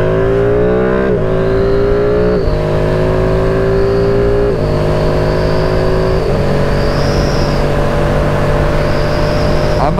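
A Ducati Streetfighter V2 motorcycle engine revs hard and climbs steadily, its pitch dropping briefly at several gear changes before rising again, loud and close throughout with no talking.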